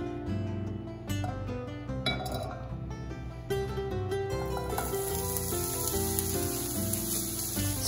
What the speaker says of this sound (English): let's fry up our onions and sausage